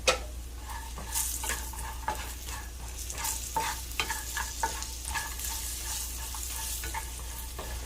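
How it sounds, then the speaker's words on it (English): Potatoes seasoned with salt and pepper fry in a pan while being stirred. A steady sizzle runs under repeated scraping and clinking strokes at an irregular pace, close up, and no one speaks. "We're going to add some salt and pepper, and we're going to let these cook for another 5 minutes. We're going to stir this around here."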